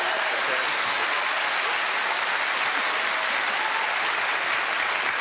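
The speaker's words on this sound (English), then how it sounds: "we'll have a round of applause from our audience." A studio audience at a TV panel show gives a sustained round of applause, dense and steady clapping throughout.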